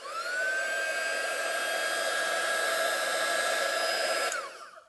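Steady high-pitched whine and rushing blower noise of a plugged-in embossing heat tool, loud and close, running continuously for several seconds before it is switched off and winds down.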